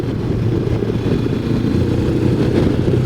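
A CFMOTO 700 MT twin-cylinder adventure motorcycle runs while riding through curves in fifth gear, giving a steady, low, throbbing engine drone with wind rumble, loud and continuous with no talking.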